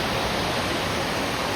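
Steady, dense rainfall in a heavy downpour over flooded streets, a continuous broadband roar with no breaks or voices.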